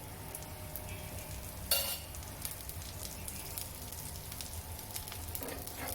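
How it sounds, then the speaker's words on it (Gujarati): Oil poured over a spinach snack cooking on low heat in a pan, a soft, even sizzle and crackle throughout with one brief sharper burst, quiet and without talk. "હવે આપણે તેલ ઉપર નાખી દેવાનું છે આ રીતે."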